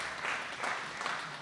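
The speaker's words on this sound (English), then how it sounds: "Another round of applause for Father Vara Prasad" An audience applauds at a Capuchin bicentenary celebration for Cardinal Lavigerie at Tangaza University as a priest leaves the stage, with sustained, even clapping from a hall crowd.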